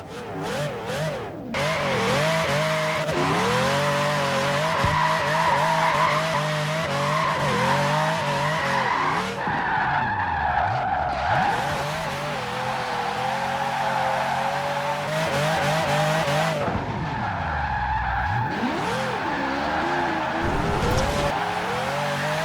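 A Formula Drift 599 car drifting gymkhana-style in a racing video game, its engine revving and wailing up and down while tires squeal and skid loudly almost without pause, with brief lifts in throttle.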